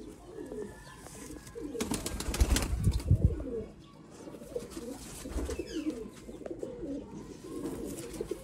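Sialkoti pigeons in a flock give repeated low throaty coos at close range, with a burst of wing flapping and rustling partway through and steady background noise.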